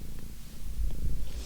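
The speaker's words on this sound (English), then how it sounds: "Her purr box is going like crazy." A cat purring steadily up close, a continuous low rumbling purr that carries throughout with no talking.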